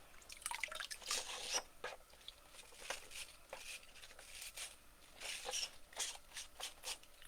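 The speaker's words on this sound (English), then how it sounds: "I just take this like silicone little scrubby and I just give it a quick scrub with that" Quick scrubbing with a small silicone scrubby on a wet surface, a series of soft, squishy, dripping rubs in uneven bursts, close and fairly quiet with no talk.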